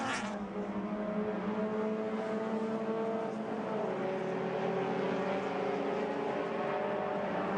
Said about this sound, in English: So now some of the cars should be coming out of the pits.